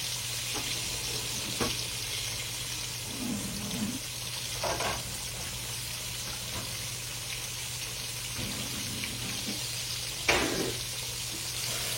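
Food fries in a pan with a continuous soft sizzle and a low steady hum, broken by a few brief clinks and scrapes, fairly quiet and without talk.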